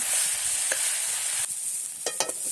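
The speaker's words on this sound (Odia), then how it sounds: "ଶାଗ ବି ହେଇ ଆସିଲାଣି। ଚୁଲିରେ ଭଜା ଯାଉଛି।" Leafy greens (saag) frying on a stove, a dense continuous sizzle with a few short scraping stirs, no voices.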